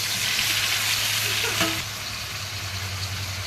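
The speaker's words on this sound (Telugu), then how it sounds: "ఆయిల్ వేడిన తర్వాత ఈ టమాటా ముక్కలను అందులో వేసేయాలి." Tomato pieces and garlic cloves fry in hot oil for a Telugu tomato pachadi, giving a steady close sizzle that runs throughout with a low background hum and no talking.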